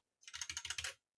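Random keys on a computer keyboard are hit in a quick burst of about eight clicks, close and crisp, while a repair of an Nvidia Shield streaming device is attempted. Silence comes before and after the burst.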